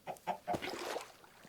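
Chicken clucking in the video game Minecraft, three short clucks in quick succession followed by a brief softer trailing cluck, clear and close with no talking.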